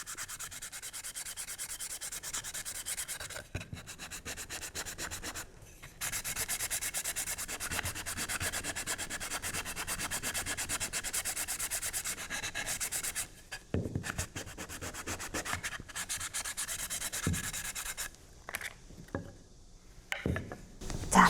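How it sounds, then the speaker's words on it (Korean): Sandpaper worked by hand along the edges and faces of a wooden footstool at a self-made furniture workshop gives a steady, close scratching rub in long continuous strokes, broken by a few brief pauses, with no talking. "사포 같은 경우는 언제까지 해야 되는가 그런 거에 대한 기준은 없고요"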